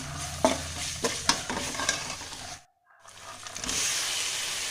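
Ginger garlic paste sizzles and fries in a hot pan for an okra and yogurt curry, with steady spoon stirring and scraping, a brief silent break midway, then the frying resumes close up.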